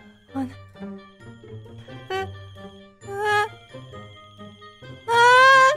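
A phone in a video game rings with bright electronic jingle tones: a short burst in the middle, then a louder, sustained melodic ring at the end, set against quieter tonal game sounds.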